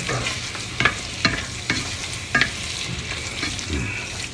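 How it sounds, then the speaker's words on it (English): A spoon stirring crawfish étouffée in a pot, scraping the bottom in rhythmic strokes about every second over a steady low simmering sizzle, close and clear. "You want to stir it so it don't stick to the bottom"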